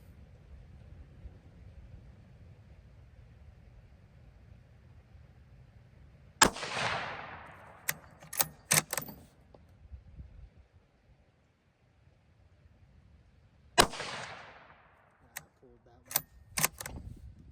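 Two sharp, loud rifle shots from a Ruger American Gen 2 in .204 Ruger ring out about seven seconds apart, each followed by the clatter of the bolt being cycled, over a quiet outdoor background.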